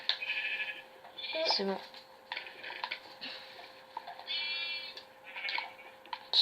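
Sheep bleat several times in a block-survival video game, short wavering calls recurring through the clip while a person speaks briefly over them.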